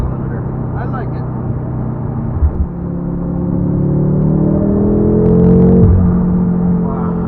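2016 BMW M5 with Dinan tune and modifications, engine roaring loud and close with a rising drone that levels off and holds steady near the rev limiter, a voice talking over it.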